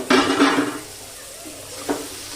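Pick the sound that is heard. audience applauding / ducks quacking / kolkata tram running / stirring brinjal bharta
stirring brinjal bharta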